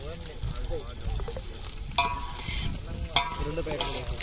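Ginger paste hits a pan of sizzling chicken curry, cooked village style, with steady frying hiss, a spoon stirring and a couple of sharp clinks against the pan, and a voice speaking faintly in the background.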